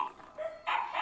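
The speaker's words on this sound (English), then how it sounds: "This is a dog." A dog barks a few times at mid distance, short bursts close together with no one talking.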